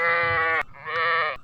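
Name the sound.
goat bleating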